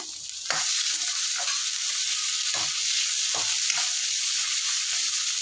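Vegetables and tomato sautéing in a pan, a steady loud sizzle with several short scraping stirs of a spoon at irregular intervals, no voices.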